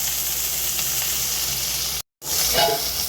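Prawns fry over low heat in a pan, a steady close sizzle that drops out for a moment, then returns with a soft stir.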